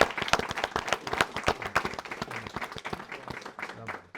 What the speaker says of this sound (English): I think it deserves a round of applause for Rana, Brad, everyone